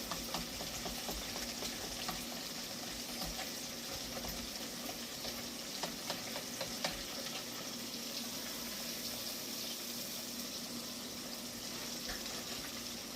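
Fish frying in hot oil while being stirred: a steady, dense sizzle and crackle with occasional scraping stir sounds, close and moderately quiet, continuing evenly throughout with no talking.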